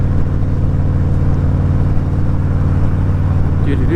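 Car engine idling and creeping in California traffic, a steady close mid-pitched hum with slight revving, heard from inside the vehicle with no talk.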